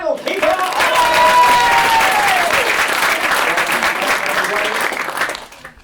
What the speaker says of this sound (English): Ladies and gentlemen, a round of applause for our final keeper.